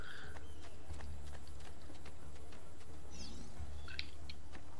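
Horse hooves galloping in Assassin's Creed II, a steady rapid clip-clop rhythm close by, with faint game sounds in the background.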